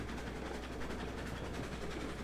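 A train runs steadily in the railway game Railroads Online, giving a continuous rolling rumble with faint rhythmic clatter. It is fairly close and stays even throughout, with no talking.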